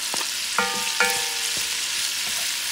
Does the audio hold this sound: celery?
yes